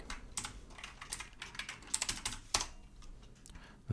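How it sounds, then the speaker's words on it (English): Rapid, quiet clicking of keys on a computer keyboard, irregular bursts of keystrokes close up. "typing"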